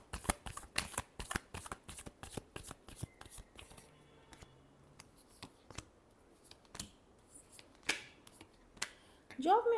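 Tarot cards are shuffled by hand in a quick run of crisp, close riffling bursts that thin into scattered slaps and flicks; a voice briefly speaks at the very end.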